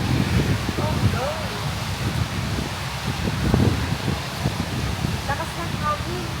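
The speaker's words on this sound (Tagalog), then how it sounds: "Lakas ng hangin." Strong wind gusts with rain in Jerusalem, a rushing, rustling roar that rises and falls, buffeting the microphone with dull low thumps throughout.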